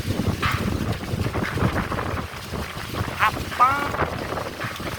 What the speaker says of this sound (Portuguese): Olha que vento.